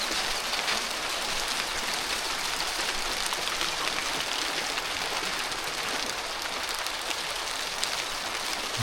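Steady rain pours on a village farmyard where chickens shelter under a canopy, an even, dense hiss of drops throughout without breaks or voices.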